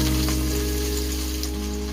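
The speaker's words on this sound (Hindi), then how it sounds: "प्याज को हम अच्छी तरह से गोल्डन ब्राउन करेंगे।" Sliced onions frying in a generous amount of oil for chicken nihari, a steady, dense sizzle that holds at a constant loud level throughout with no voices.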